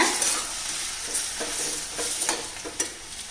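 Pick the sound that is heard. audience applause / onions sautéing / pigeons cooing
onions sautéing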